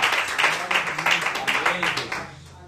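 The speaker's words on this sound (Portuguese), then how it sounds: "Dê uma salva de palmas ao Senhor." A church congregation claps in a steady, dense burst of applause during a service, loud and close, gradually thinning toward the end with no voices over it.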